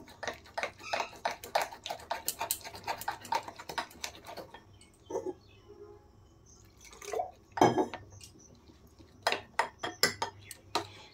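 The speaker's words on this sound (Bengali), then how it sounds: "অল্প অল্প করে জল দিয়ে কিন্তু এটা ঠিক ব্যাটার বানিয়ে নিতে হবে।" A spoon clinks and taps rapidly against a bowl while gram flour batter is mixed with water for bread pakora, bursts of close clicking separated by short quiet pauses.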